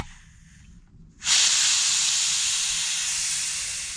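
Loud steady hiss bursts in abruptly as pressure is released from a pressurized sink sprayer at a camp setup, holding strong for several seconds after a quieter lead-in and only slowly easing.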